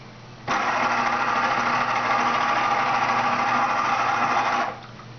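An electric juicer starts abruptly and runs at a steady, loud whine as it grinds celery and kale stalks, then cuts off after about four seconds.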